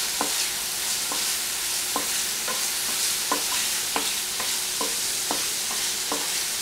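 Cauliflower and finely chopped bell pepper frying in a pan for Gobi Manchurian, a continuous sizzle broken by regular spatula knocks and scrapes roughly twice a second, close and loud with no talking.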